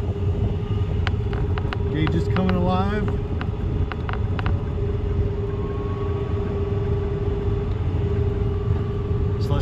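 An electric car based on the Volkswagen Rabbit hums with a steady DC electric motor whine over a low rumble, while someone speaks briefly in the cabin.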